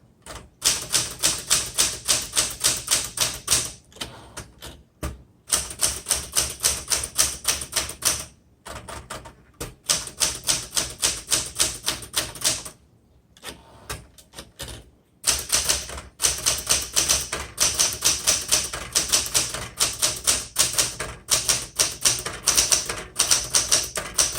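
Typing on a 1967 Smith Corona Super Sterling manual typewriter: a loud, close, steady clatter of keystrokes in fast bursts, separated by brief pauses, with no voices.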